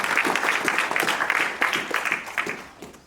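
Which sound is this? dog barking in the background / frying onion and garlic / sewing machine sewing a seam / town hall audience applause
town hall audience applause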